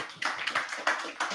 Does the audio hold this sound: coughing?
no